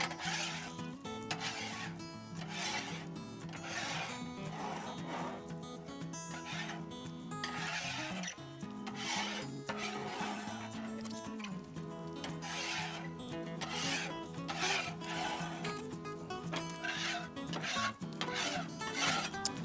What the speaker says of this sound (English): first I'm going to scrape down just one side of the bacon grease